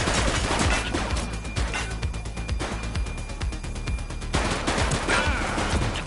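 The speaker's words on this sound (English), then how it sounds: "He's shooting!" Gunfire from a shootout with police in The Precinct: dense, overlapping bursts of shots that are loud and continuous, with a brief lull in the middle.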